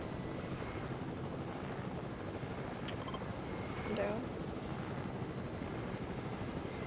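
A helicopter in Fortnite gives off a steady, muffled rotor drone at low volume under game sounds, with a brief louder swell near the middle and faint talk around it.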